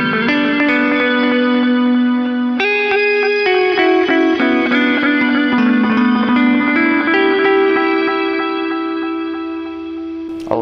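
Horizon Devices Flux Echo ambience pedal with its tone control turned fully up, a bright shimmering wash of sustained echoing notes that change pitch a few times and slowly fade toward the end.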